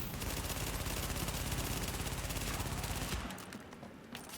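Gunfire from a Call of Duty video game played nearby, heard as rapid, continuous bursts of automatic fire, faint and distant, that cut off near the end.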